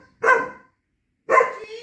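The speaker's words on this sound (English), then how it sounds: "he just starts barking at them" Two loud, close barks from a teenage Belgian Malinois, each a short burst, separated by about half a second of silence.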